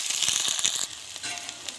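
Chopped onions tipped into a hot kadai of oil for a village-style onion curry, a sharp burst of loud sizzling that quickly settles into a softer steady fry.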